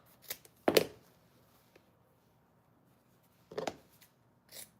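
Scissors snip through thick ribbon for a wreath bow: a couple of close, crisp cuts early on, a quiet pause, then another firm cut and a fainter one near the end.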